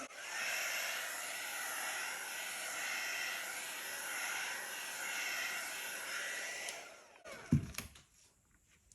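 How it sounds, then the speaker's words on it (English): A heat embossing tool blows hot air onto a paint-dipped bottle, a steady loud whirring hiss lasting several seconds before it cuts off, followed by a short clunk of handling. "I'll just hit it with the heat embossing tool one more time"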